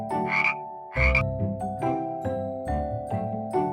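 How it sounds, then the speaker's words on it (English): Repeated frog croaks in a steady, pulsing series, fairly close and clear against a musical backing with no talking. "Ribbit, ribbit, it's the frog."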